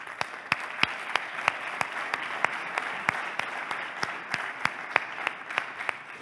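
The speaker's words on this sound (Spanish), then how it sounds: "Pido ya para él un fuerte aplauso" Audience applause at an artificial intelligence summit session, heard as a moderate wash of many hands with distinct sharp claps standing out at a steady, rhythmic pace.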